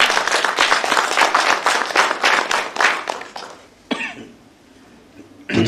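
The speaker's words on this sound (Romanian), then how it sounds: "Merită aplauze." Audience applause at a book launch in Onești, a dense burst of clapping for about three seconds that fades out, followed by a few scattered sounds and a coughing noise.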